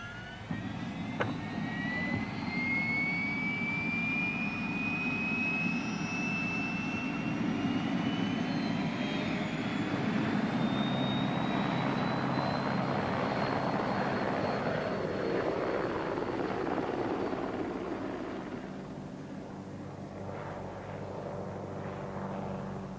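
An aircraft takes off, its jet roar and whine rising in pitch and building, then slowly fading into the distance over about twenty seconds, heard alone without talk.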